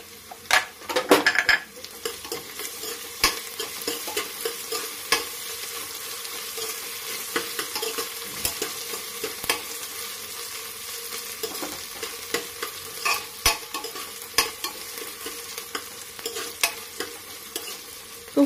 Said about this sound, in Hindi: इसी में फ्रेंड्स मैं अदरक लहसुन के पेस्ट को ऐड कर दे रही हूँ, वो भी इसी में फ्राई हो जाएगा।